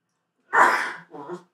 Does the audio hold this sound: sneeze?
yes